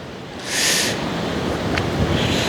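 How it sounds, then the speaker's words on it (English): Strong surf breaking at a Newquay beach in Cornwall, a steady broadband roar with a louder surge of a wave washing in near the start, heard close and alone with wind buffeting. "the waves are really, really strong"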